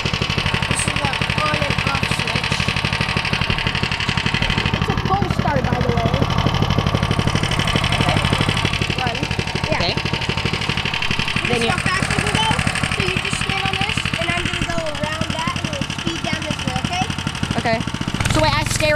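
A trail bike engine idles with a steady, continuous rumble close by throughout, while people talk over it.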